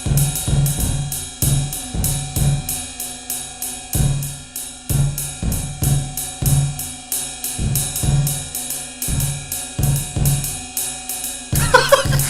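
Drums in a music recording struck in a repetitive, evenly spaced pattern, loud sharp hits recurring steadily with a looping, mechanical feel throughout, no talk over them.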